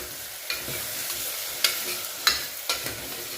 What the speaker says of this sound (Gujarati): હવે આપણે ડુંગળી એડ કરી દઈશું તો ડુંગળીને પણ આપણે એકદમ સારી રીતે મિક્સ કરી લઈશું